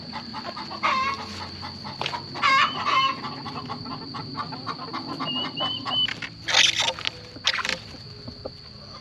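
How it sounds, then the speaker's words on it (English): Chickens cluck and squawk nearby in uneven bursts, several birds calling over a continuous high-pitched whine and faint outdoor noise. "We will throw these ones to the chickens."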